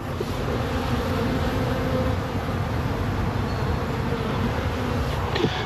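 Honey bees buzzing steadily around a spring hive, a dense continuous hum held close throughout with no talking.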